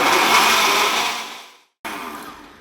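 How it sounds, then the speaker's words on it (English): An old blender runs on high, blending banana, avocado and kale into a green smoothie, a loud steady whir that fades, cuts out briefly, then starts again. "I'm going to blend this on high until it's smooth."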